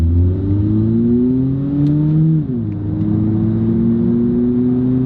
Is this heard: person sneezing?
no